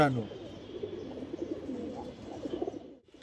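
Soft pigeon cooing murmurs under a low background hum, with a brief voice at the very start.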